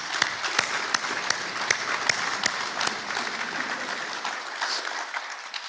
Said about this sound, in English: Give yourselves a round of applause for that one.